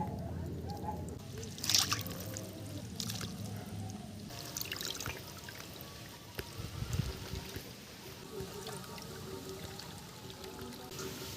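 Pieces of chicken being washed by hand in water in a village kitchen, giving soft sloshing, splashing and dripping with faint voices in the background.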